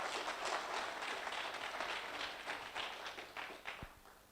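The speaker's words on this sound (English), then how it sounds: "Can we give them another round of applause?" A business workshop audience applauds exhibitors with a continuous, dense round of clapping that holds steady and tapers slightly near the end, with no talk over it.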